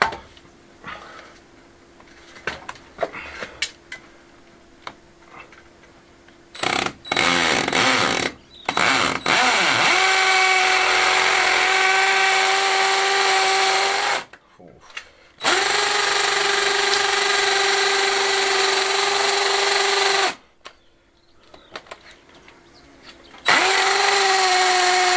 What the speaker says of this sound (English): Now all I've got to do is drill them out and hope I don't hit marble